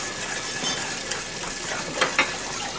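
A whisk scrapes and swirls through beef roast gravy as flour is worked in, making a steady, close stirring with light sizzling and a couple of brighter metallic clinks near the end, with no talking.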